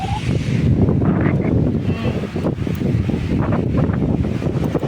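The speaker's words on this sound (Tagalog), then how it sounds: "Parang nagsa-sandstorm. Lakas kasi ng hangin." Strong wind buffets the microphone in a constant loud roar near Sai Wan Village and Sheung Luk Stream, with gusty rumbling and no clear voices.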